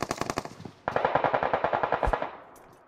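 Rapid automatic gunfire from a Clatter of Clans video game match comes in two sustained bursts of sharp, evenly spaced shots, loud and close, with a brief gap between them and a short fading tail.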